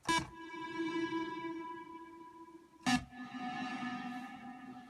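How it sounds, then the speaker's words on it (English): A sustained tonal, reverberant wash dips after a sharp hit, then swells back up loudly once a second hit lands, with no talking. "it's ducking the reverb now, and then it comes up really hard."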